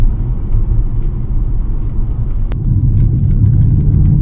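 A supercharged 2005 Jaguar XJR with a new intake manifold drives along, its engine giving a continuous deep rumble with a low throaty drone under load and a sharp click partway through.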